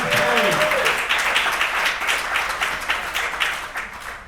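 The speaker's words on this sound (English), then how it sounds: "Clap your hands if you actually believe it." A crowd at a motivational speech claps hands in loud, sustained applause, individual sharp claps standing out in a rapid, uneven patter; a brief vocal tone rises at the very start before the clapping carries on alone.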